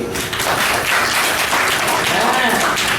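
Clapping from an audience at a religious discourse in Mathura, a continuous loud burst of many hands applauding together with some voices mixed in.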